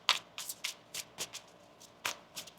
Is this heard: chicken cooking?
no